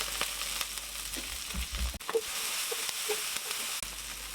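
Green chillies and onion hit hot soybean oil with a soft, fairly quiet sizzle and a few stirring clatters, the frying steady through the short stretch with no voices.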